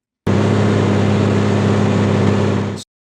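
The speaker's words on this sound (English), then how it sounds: "So the important one here is the car engine sound." A car engine sound effect plays in a Nuendo post-production session, a steady, even engine drone of about two and a half seconds that starts abruptly and cuts off cleanly, with no voices.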